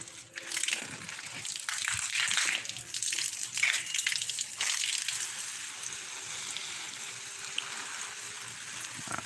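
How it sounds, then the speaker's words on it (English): Plants being watered with a steady splashing, gushing stream of water, hissing and sloshing for several seconds at moderate loudness, with no voices. "So I just had to invest a lot of water into these plants."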